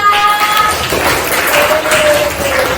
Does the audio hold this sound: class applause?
yes